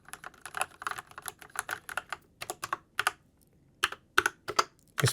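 Keystrokes on a GG Ironclad mechanical keyboard with Red switches, including the space bar, recorded close to the mic: an irregular run of crisp, fairly loud clacks, some in quick clusters, with brief gaps and no talking.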